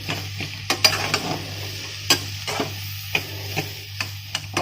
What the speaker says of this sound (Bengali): এভাবে একটু চেপে চেপে আলুগুলো করে দেবো যেহেতু আলুগুলো একদম নরম আছে গেঁথলে দেবো আলুগুলো